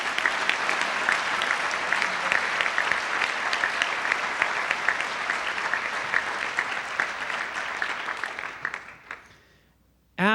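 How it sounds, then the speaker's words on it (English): Sustained applause from the audience at a 2023 National Honor Society induction ceremony: many hands clapping steadily at close range for around nine seconds before tapering off, with a voice starting right at the end. "Can we please appreciate them with a round of applause?"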